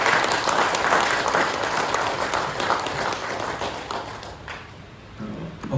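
Loud, dense applause from a spiritual gathering clapping for their guru, sustained and close, gradually thinning and fading toward the end before a brief swell.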